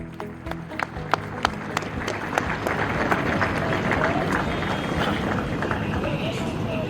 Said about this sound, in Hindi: Sir, एक बार जोरदार तालियां बेटा होनी चाहिए.